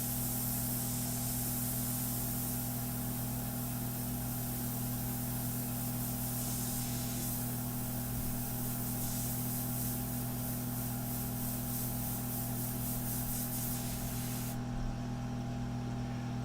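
Airbrush spraying India ink onto a portrait: a long, continuous close hiss, faintly pulsing as the spray is worked, over a steady low hum, stopping abruptly shortly before the end.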